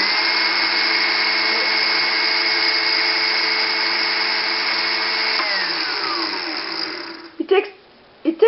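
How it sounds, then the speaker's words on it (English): An electric mixer blending garlic and chillies for Tunisian harissa runs as a loud, steady whine that slows and winds down near the end, followed by a few short knocks and clatters. "It takes a moment for the mixer to really gather everything and turn"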